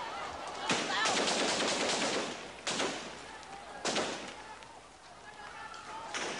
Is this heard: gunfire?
yes